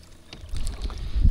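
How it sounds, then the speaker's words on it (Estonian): A small fishing boat driven by a weak 40 lb electric trolling motor, a short burst of water and motor noise that grows louder toward the end, with no speech. "ma panin liiga lahja mootori esiteks külge 40 LBS-ise"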